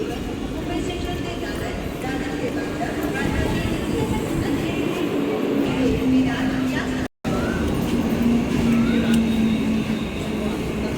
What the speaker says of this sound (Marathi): डहाणू लोकल आली बघा.